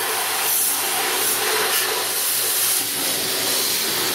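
A pressure washer's wand blasts an MTD Yard Machines 5hp leaf blower coated in citrus cleaner at a car wash, a loud, steady hiss of spray that barely changes across four seconds.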